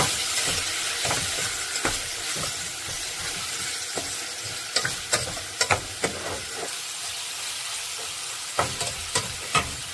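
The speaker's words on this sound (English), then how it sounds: "Now mix it. Mix this." Musur dal lentils being stirred in a hot pot give a soft continuous sizzle and hiss, broken by several sharp scraping clicks of a spoon against the pot in the second half.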